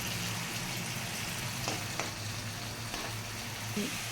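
Curry cooking on a low flame in a pan, with tamarind juice and curry leaves to follow, giving a steady soft sizzle and bubbling hiss with a few faint clicks, close and continuous with no talk.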